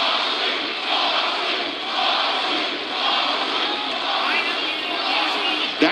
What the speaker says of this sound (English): a crowd chanting in unison for Jon Moxley